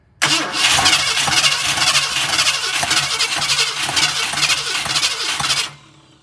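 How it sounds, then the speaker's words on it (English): A 1966 Ford Galaxie with a 7 litre engine cranks loudly and steadily for about five seconds with a rhythmic pulsing starter churn, popping back through the carburetor, then cuts off abruptly. "it's still popping back through the carb no matter what we do"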